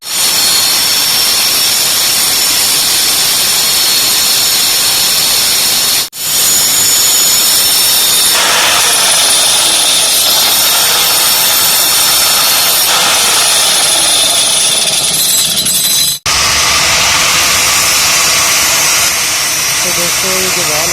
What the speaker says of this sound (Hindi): ग्राइंडर की मदद से हम इसको इधर से काटेंगे